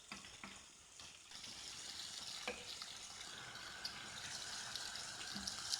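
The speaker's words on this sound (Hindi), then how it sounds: "फ्राई करेंगे थोड़ा सा इसको। लहसुन अदरक का पेस्ट 1 टेबल स्पून" A tablespoon of garlic-ginger paste fries in a pan with achari spices for lauki chana dal, giving a soft, steady sizzle with a few light clinks, faint and close, with no talking.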